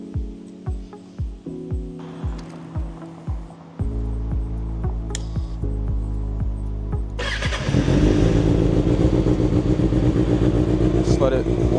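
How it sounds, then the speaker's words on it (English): A 2024 Kawasaki ZX6R motorcycle is started and left running to warm up, beginning with rhythmic cranking pulses and then settling into a loud, steady close idle that swells louder toward the end. "We're gonna turn the bike on, let it run for a little bit, get hot"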